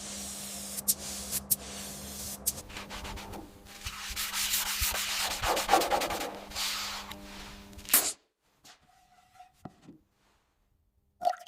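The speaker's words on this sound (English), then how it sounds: "This meticulous wet sanding of the primer is the critical step" Wet sanding of primer on the body of a 1903 De Dion-Bouton car: a steady, close scraping rub with strokes rising and falling for about eight seconds, then a few faint taps and quiet pauses.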